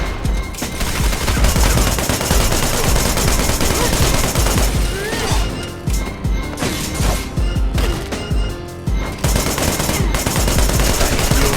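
Rapid automatic gunfire in the video game Wanted: Dead, dense continuous bursts with heavy impacts and crashes, briefly thinning midway before resuming at full loudness.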